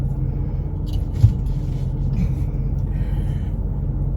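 Car driving on a road, heard from inside as a steady low engine and tyre rumble that stays constant throughout, with a small bump midway.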